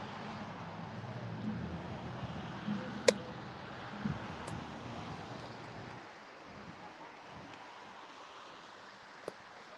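Wind buffets an outdoor microphone on a cold day, a steady low rumble with gusts that surge and ease, broken by a few sharp knocks from a broken stand.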